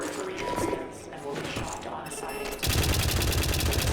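Turrets open fire inside the horror climbing game White Knuckle, a dense burst of rapid gunfire that swells suddenly and stays loud and continuous to the end, with game noise and a voice underneath.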